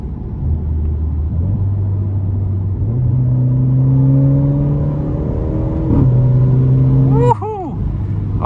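A base-model Alfa Romeo Giulia engine accelerating hard, heard loud and close from inside the cabin, its revs climbing steadily through several gear changes before a sharp upshift near the end.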